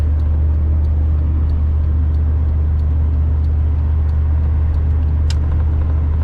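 Steady low engine and road rumble from a car cruising slowly at about 50 mph on a freeway, a vehicle with a transmission that keeps losing fourth gear, continuous and close with no voices.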